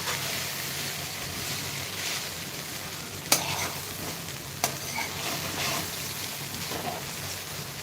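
Poha (flattened rice) being stirred in a pan over low heat, a soft continuous scraping and faint sizzle with two sharp utensil knocks against the pan, no voices.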